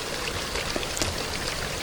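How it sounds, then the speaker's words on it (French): Mountain waterfall pouring steadily as a continuous, even rush of water with a splashing, hissing texture, close and alone with no voices. "à écouter la cascade poursuivre son chant immuable"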